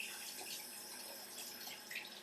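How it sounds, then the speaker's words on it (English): A kitchen tap runs steadily while hands are rinsed under it, a soft continuous splash with small shifts as the water hits skin. "I'm going to rinse my hands really quick."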